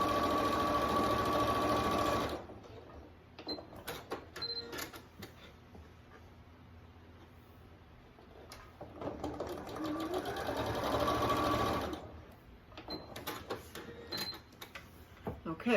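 A sewing machine stitches a quilted photo ID pouch in a steady close whir, stops for fabric handling and small clicks, then runs again in a second sustained burst.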